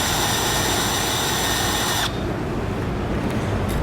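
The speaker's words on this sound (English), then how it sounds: "What I like to do is use a 1/2 inch drill bit." A power drill with a 1/2 inch bit bores a hole in a Jeep Gladiator mounting panel, a loud steady whine for about two seconds before the motor spins down to a lower rumble.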